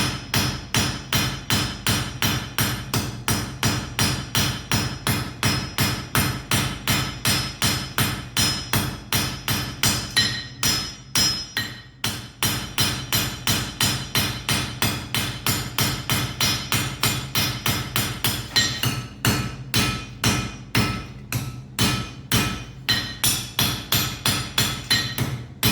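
Hammer blows strike hot metal while a rune pendant is forged at a blacksmith's anvil, a long run of steady, evenly spaced ringing strikes with a few brief pauses.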